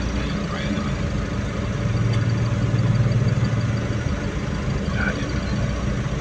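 A single motorcycle moving through floodwater on a flooded street in Salacot, San Miguel, Bulacan: a low engine rumble swells for a few seconds and then fades, over a constant wash of background noise.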